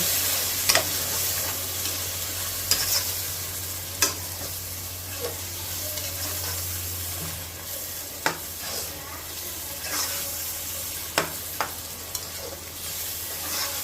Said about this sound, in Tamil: தக்காளியை நல்லா வதக்கணுங்க